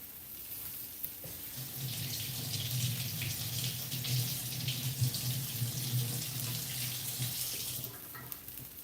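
A kitchen tap runs steadily for several seconds while leaves are rinsed under the stream, a soft, even hiss of water that stops near the end.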